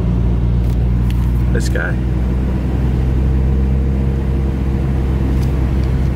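Mazda RX-7 FD running on E85 drones steadily from inside the car while driving, a constant low engine rumble throughout as someone talks briefly over it.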